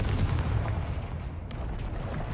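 Confringo fire spell blasting in Hogwarts Legacy, a dense, rumbling explosion that fills the whole clip with a deep, sustained boom and crackling debris, close and loud.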